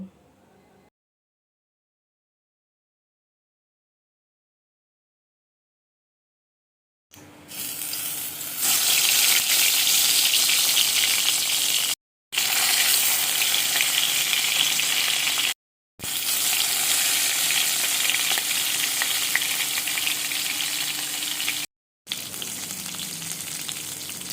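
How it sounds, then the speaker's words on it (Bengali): Eggplant pieces fry in hot oil with a loud, dense sizzle that starts after a few seconds of silence and runs steadily, broken by brief gaps, close up with no voices. "এবারে আমি বেগুনগুলোকে ভালো করে ভেজে নেব।"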